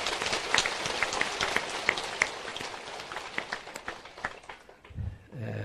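Applause from an audience at a Buddhist temple dharma talk, many hands clapping steadily for several seconds as a dense patter, then fading out near the end.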